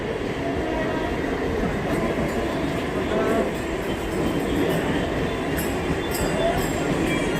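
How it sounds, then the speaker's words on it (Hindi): A Mumbai local train running at speed, a dense steady roar of rails and carriages with faint wheel clatter, loud and continuous throughout. "यहाँ की लोकल ट्रेन दौड़ रही है।"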